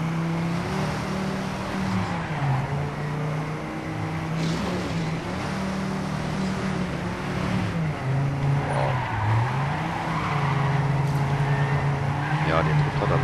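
A car drifts in the racing game TrackMania 2 Canyon, its engine droning steadily with pitch rising and falling through shifts while tire noise hisses underneath, continuous and close, with someone talking over it.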